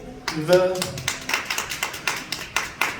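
A voice sounds briefly, then some of the audience at a Christmas and New Year show in St. Petersburg, Russia claps in a quick, steady rhythm of sharp, distinct claps close by.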